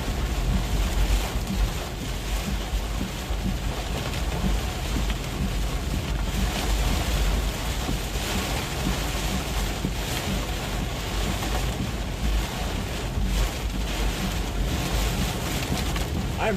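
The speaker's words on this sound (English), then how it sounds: "that car just splashed everything on top of me" A passing car throws flood water over a vehicle driving through a heavy thunderstorm in Richmond, Virginia, a loud continuous rushing wash of water and rain blanketing the car without letup.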